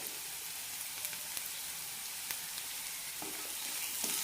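Onions with turmeric fry in a pan, a soft, steady sizzle with occasional faint pops and stirring clicks, heard alone without speech.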